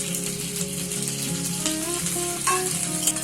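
Flat beans fry with salt, turmeric and chopped tomato in a pan, a steady close sizzle running throughout with a brief brighter crackle near the end.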